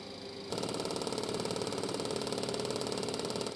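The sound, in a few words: Boeing 727 stall warning test in a flight simulator game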